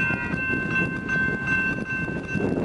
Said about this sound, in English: And then here comes this train.